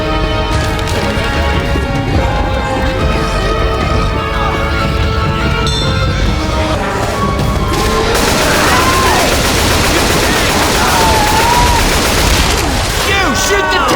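Rapid gunfire in Left 4 Dead 2, fired at a Tank during the Dead Center campaign, with bursts rattling under a dense mix of game effects and shouted voices throughout.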